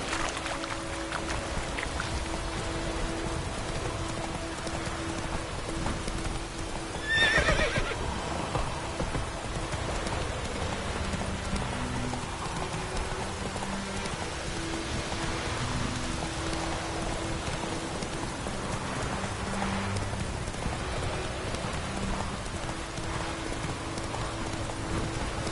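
Roach the horse gallops through rain in The Witcher 3, steady hoofbeats over a wet hiss of rainfall, a sharp whinny partway in, with low music beneath.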